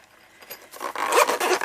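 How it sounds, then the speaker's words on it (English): A zipper is pulled closed on a small carry case, starting faint and growing into a loud, close, rasping run of short zip strokes. "let's see if it zips up"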